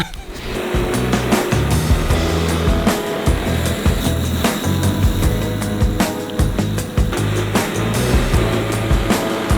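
A battery scarifier (dethatcher) works across a Kikuyu lawn, its motor whirring loudly with rapid rasping and clattering bursts as the tines tear through the grass, close and continuous with uneven surges.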